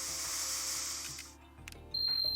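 A spraying hiss in the Trauma Team game, a steady airy spray lasting over a second before cutting off, followed by a few small clicks and a thin high electronic tone.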